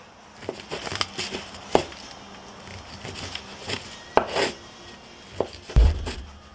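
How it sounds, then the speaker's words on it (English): A knife slices through andouille sausage on a cutting board for pork rib jambalaya, giving scattered, close thuds and soft taps against the board at an irregular pace. "I'm going to go ahead and slice up this andouille sausage real quick."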